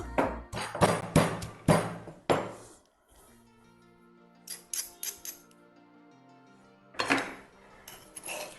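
Green chilli, garlic and ginger pounded together: a run of heavy, close, rhythmic thuds, then a pause with a faint ringing tone, and a final short burst of pounding.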